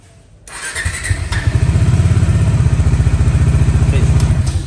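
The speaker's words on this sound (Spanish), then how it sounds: "la prendemos la moto una vez, listo, dos veces, solo con prenderla que suba las RPM dos segunditos" A Honda NS200 motorcycle engine cranks and catches after a brief quiet start, then runs with a loud, steady rapid pulsing as it idles and is held at raised revs, close by.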